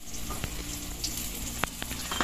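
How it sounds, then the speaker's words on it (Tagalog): Crispy bangus (milkfish) frying in hot oil while being turned over, a steady close sizzle with a few brief clinks and spatters. "bali binibiling na po ni mama yung ating pinaritong bangus"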